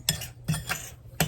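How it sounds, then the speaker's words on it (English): A utensil stirring cake batter in a bowl, three distinct clinking scrapes against the side at an even pace, close and clear. "Now I'm just going to stir it to combine it."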